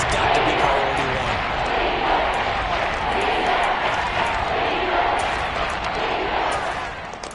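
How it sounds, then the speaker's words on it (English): Football stadium crowd noise swells into a steady, dense roar that holds loud throughout and eases slightly at the end, with a commentator's voice running over it. "Crowd getting in it a bit already."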